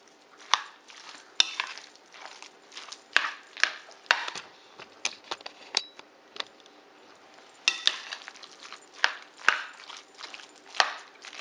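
A spoon works leftover holiday turkey salad with sweet pickles and mayo in a bowl, giving a string of soft, wet scraping and clacking strokes at close range with no talk.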